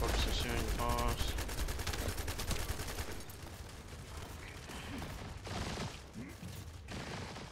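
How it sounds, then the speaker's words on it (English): Rapid gunfire from shooting a boss in a shooter video game with an Ajax shield build, a loud, dense burst of automatic fire that later thins into scattered shots amid other game sounds. "Focus on shooting the boss."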